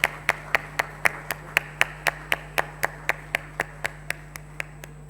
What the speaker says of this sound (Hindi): हम जोरदार तालियों से आपका स्वागत करते हैं।